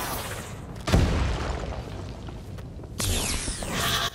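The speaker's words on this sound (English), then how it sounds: "Oh, he's throwing bombs at me." Bomb explosions in the video game Infamous First Light: a heavy boom near one second, then a second loud blast with debris-like crackle at three seconds, over a steady low game rumble.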